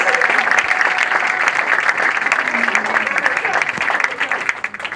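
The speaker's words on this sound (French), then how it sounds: "Applaudissez s'il vous plaît." An audience at a cultural event in the DRC applauds, a loud and dense burst of many hands clapping that holds steady and then thins toward the end.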